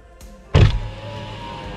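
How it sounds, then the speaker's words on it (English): A car's electric power window hums briefly, then a louder thump as it lowers, followed by a low steady drone of the idling car. "So I'm just gonna undo my window, turn the engine off"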